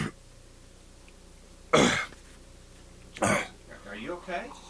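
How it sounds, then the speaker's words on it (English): Two sharp, loud coughs from a person with a lingering cough, spaced about a second and a half apart, followed by a voice beginning to speak. "I've got a cough that just won't go away"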